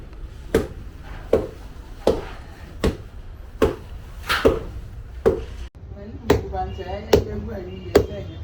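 Yam is pounded for Ghanaian fufu with a steady run of heavy, dull thuds, roughly one every three-quarters of a second. The blows sound close and loud, and voices chatter in the background during the later strikes.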